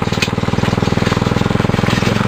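A small homemade ride-on car built from scrap parts runs its engine with a steady, rapid putter, a loud close rhythmic thrum throughout with no talking.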